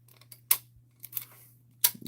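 Scotch tape is pulled off a roll in short bursts, with sharp crackling rips near the start and end and a few softer clicks and rustles between, close and quiet overall.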